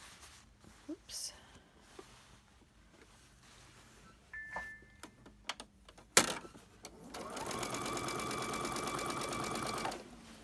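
A sewing machine runs in one steady burst of about three seconds near the end. Before it come soft handling noises, a sharp click and a brief electronic beep.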